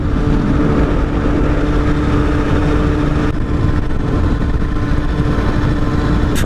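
Moped engine riding at near top speed, a loud continuous buzzing drone with steady pitch, close-up under constant wind roar and road noise.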